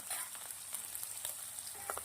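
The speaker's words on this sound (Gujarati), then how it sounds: "મશરૂમને પણ સરસ મજાના તેલના અંદર ઘીના અંદર શેકી લેવાના છે" Mushrooms fry in ghee in a pan, giving a steady, soft sizzle with faint crackles and occasional stirring scrapes, heard alone at low level.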